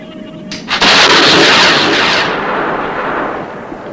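A missile launching at ignition on a countdown, a sudden loud roaring blast that swells and then slowly tails off, close and alone.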